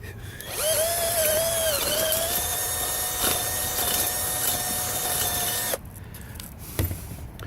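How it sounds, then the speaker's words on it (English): A power drill bores out holes in scrap metal to make them bigger, a loud, steady, high-pitched whine for several seconds that cuts off abruptly, followed by brief quieter rattles. "I have to drill these holes out bigger, so I'm going to do that right now"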